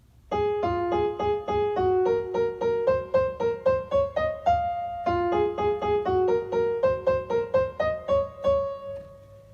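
A keyboard transposed up one key plays a bright, rhythmic melody of repeated chords and notes from "Little Brown Jug," clean and up close, with a short pause midway before the phrase continues.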